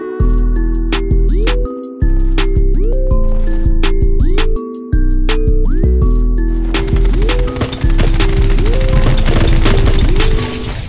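Gunfire in the shooter game Rogue Agents, loud rapid repeating shots in sustained bursts with synthetic ringing tones and crashes, close and dense with brief pauses.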